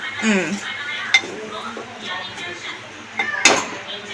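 Brinjal pullagora curry, a Rayalaseema eggplant dish, stirred in a pot, giving soft scraping and a few sharp clinks of a spoon against the vessel, with a louder clatter near the end.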